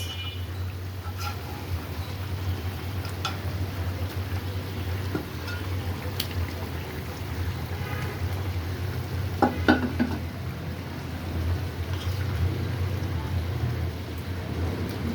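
Onion curry bubbling in a pot with pieces of fish just added, a steady low simmer and bubbling churn throughout, with a few soft clinks and stirring scrapes near the middle, no talking.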